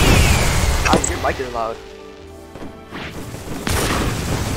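Fireworks explode in a Grand Piece Online two-year anniversary event as loud booms and crackling bursts that recur through the clip, partly under a voice talking.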